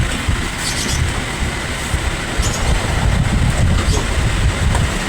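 A repaired angle grinder with a fixed gear, its rewound motor windings powered up and running with a steady, continuous mechanical whir and rattle, fairly loud and close, with no talking.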